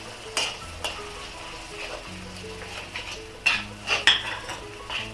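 Ginger, garlic and chili paste stirred in an iron wok while cooking aloo gobhi, a spoon scraping and clinking against the metal in irregular strokes over a faint sizzle, close and moderately quiet, no talking.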